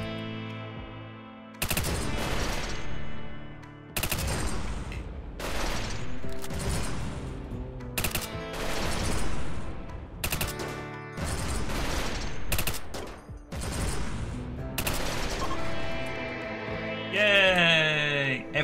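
Bursts of automatic gunfire from colonists' weapons in the video game RimWorld, several loud rapid volleys separated by short pauses, with echoing booms and a faint tonal effect near the end.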